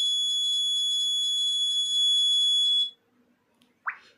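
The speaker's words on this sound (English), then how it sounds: "Buzzer will on until SMS will send to the mobile phone." A panic alarm buzzer on a GSM and GPS safety device gives a loud, steady high-pitched electronic tone for about three seconds, then cuts off, leaving near silence and a short faint click.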